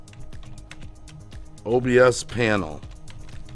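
Clicking keystrokes on a computer keyboard, a quick irregular patter of light taps close by, with a person talking over the middle of it.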